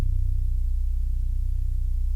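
A sustained Splice 808 bass note held with a crossfade so it never decays, a deep steady low rumble droning evenly from start to end with no voices.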